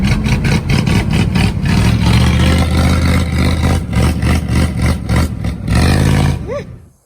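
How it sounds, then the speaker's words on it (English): Bogger mud tires on a lifted CUCV military truck droning down the road, a loud close engine and tire roar with rhythmic pulsing that fades out at the end. "hear the boggers humming"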